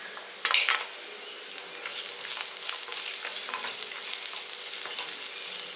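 Cashews fry with sautéed onions in a pan. Close, steady sizzling is broken by crisp clicks and scrapes as the pan is stirred, with a sharper clatter near the start and no voices.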